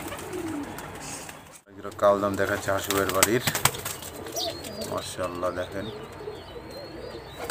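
High flyer pigeons coo at a large pigeon farm, several throaty rolling calls close by after a brief pause, while someone talks over them.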